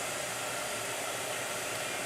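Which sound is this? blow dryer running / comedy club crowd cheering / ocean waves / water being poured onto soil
blow dryer running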